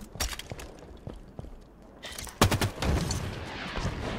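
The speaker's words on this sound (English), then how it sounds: "I love the Hydra shots." Rapid Hydra weapon fire from Halo 5, a burst of sharp shots and impacts, busy and loud, the barrage growing denser and heavier near the end with no talk over it.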